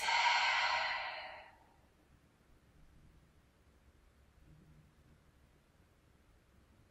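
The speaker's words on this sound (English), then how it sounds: "Exhale from the mouth" A single long exhale through the mouth during a breathing exercise in a cooling yin yoga practice, a soft close breathy rush that fades into quiet room tone.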